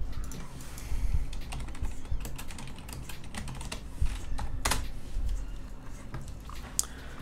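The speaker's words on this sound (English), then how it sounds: "let me show you what it's like when we type entry-level junior developer" Someone types on a computer keyboard in a steady run of close, crisp key clicks with a few louder taps, continuous and with no talking.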